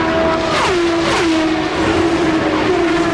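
CART Indy race cars roar at speed during the 1994 Michigan race. Their high engine whines rise and fall as the cars sweep past, over a continuous loud racing din.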